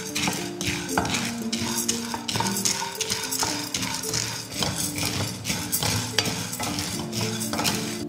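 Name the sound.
chana dal being dry-roasted and stirred in a pan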